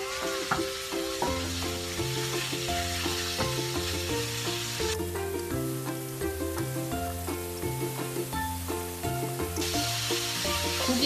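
Marinated meat for japchae fries in scallion oil with a steady close sizzle and stirring, heard under prominent background music throughout.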